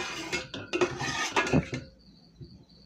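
A spoon scrapes and clinks against a pot while serving dal curry, a quick run of metallic knocks and scrapes close by, then fading to quiet.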